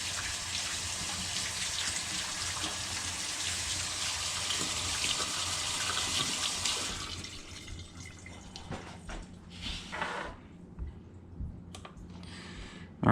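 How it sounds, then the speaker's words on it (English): Fingers rinsed under a running kitchen tap after mixing messy rye bread dough, a steady close hiss of water for about seven seconds, then drips and faint clatter as it shuts off. "so I'm just going to rinse my fingers real quick."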